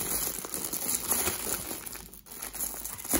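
Someone cuts through the middle of a signed-for mail package sent from Belgium, producing a steady crinkling, rustling texture of packaging material, close and moderately loud with a brief lull partway, with no talking.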